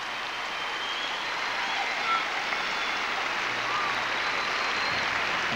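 A crowd in a gymnastics arena cheers and applauds after a beam routine at a 2000 test event, a steady dense roar of clapping heard from within the audience.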